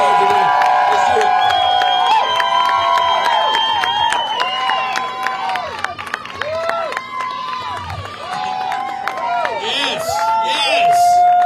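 A crowd at a Las Vegas political rally for Adam Laxalt chants loudly and rhythmically, many voices rising and falling together close by, with cheering and shouts mixed in.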